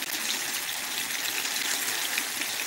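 Grease from a pan of browned meatballs pours off in a steady, continuous stream, close and fairly quiet, with no talking over it.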